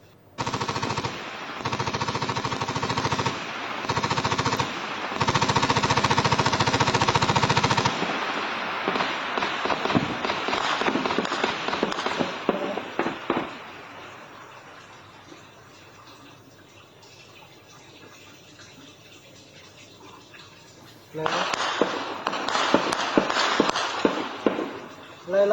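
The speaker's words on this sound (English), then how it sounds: "sophisticated weapons like machine guns are being used by the armed man in the exchange of fire near Sugnu village" Automatic weapon fire rattles during an armed exchange of fire near Sugnu village in Manipur. Dense, continuous bursts are followed by a stretch of scattered, fading shots, then a heavy renewed volley, loud and harsh throughout.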